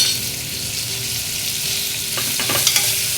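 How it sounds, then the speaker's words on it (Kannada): Snake gourd sizzles in hot oil in a pan, a steady close frying hiss, with a few scraping stirs of a spoon near the end. "ಈ ಪಡವಲಕಾಯಿನ ಹಾಕಿ ಬಾಡಿಸ್ಕೊಂಡು ಒಂದು ಸಲ ಕೂಗಿಸ್ಕೊಂಡ್ಬಿಡೋಣ"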